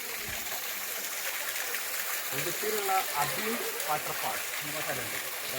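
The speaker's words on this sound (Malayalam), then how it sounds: "ഈ വാട്ടർഫാൾസിന്റെ പേര് അബി വാട്ടർഫാൾസ് കേട്ടോ." Arbi waterfall in Udupi, a steady broad rush of falling water filling the background while people talk nearby.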